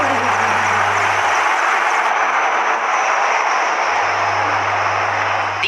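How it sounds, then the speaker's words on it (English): Apache and advanced light Mark IV helicopters with other aircraft in a Republic Day flypast, a loud steady engine roar and rotor drone filling the scene throughout, with steady low hum underneath. "two Apache helicopters and two advanced light helicopters Mark IV aircraft in echelon."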